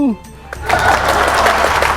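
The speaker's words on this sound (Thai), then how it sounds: "ขอเสียงปรบมือต้อนรับ" An audience on a Thai food and farming show welcomes a guest with applause. Someone speaks briefly, then a loud burst of clapping swells in and continues to the end.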